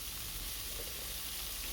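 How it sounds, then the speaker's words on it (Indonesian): Bitter melon being stir-fried in a wok, with a steady, even sizzle and hiss of frying that continues without a break. No one speaks over it. "Lalu masukkan parenya ke dalam wajan."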